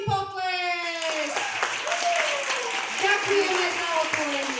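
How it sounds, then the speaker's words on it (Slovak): An audience bursts into big applause at the opening of an event, a dense, loud wash of clapping that follows a spoken countdown and a voice leading the crowd. "a veľký potlesk!"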